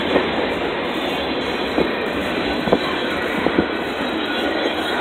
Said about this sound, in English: I'm glad we're not on the bridge while that train's coming.